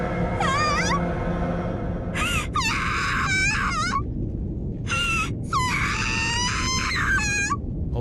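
Anguished, shrill screams from a girl in the visual novel Fate/Stay Night Remastered, during the Heaven's Feel normal ending. Several long wavering wails come in bursts over a steady low background drone, with no talking.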